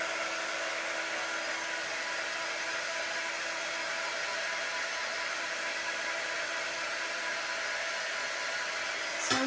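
A hair dryer blows steadily on glass etching paste, a continuous broad whooshing roar held at even loudness throughout, close to the microphone, with a slight bump right at the end.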